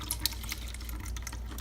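Firethorn berries and juice poured through a strainer while making firethorn wine, a steady trickling splash of liquid close by, no talking.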